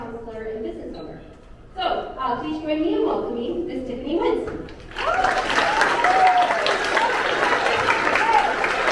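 An audience at a veterans assembly breaks into sustained applause welcoming a speaker, rising abruptly after a short stretch of talk and continuing steadily, fairly loud and close.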